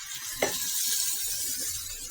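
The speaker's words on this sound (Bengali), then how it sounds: "পেঁয়াজের ভিতরে সামান্য পানি দিয়ে দিব," Onions sizzle steadily in a hot pan after a little water is added, a continuous close frying hiss with one brief sharper burst near the start.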